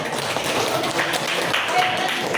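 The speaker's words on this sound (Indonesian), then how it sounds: "tepuk tangan buat kita semuanya" Steady applause from a group at an emotion-management training session, continuous dense clapping throughout with no break, heard fairly close and filling the room.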